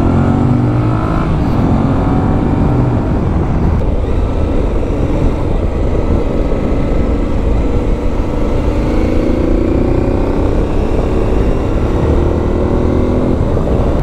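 An Aprilia Tuareg 660 motorcycle on a test ride out of Sassari, its engine droning steadily and loudly for the whole stretch, with wind rush and shifting engine pitch as it pulls away.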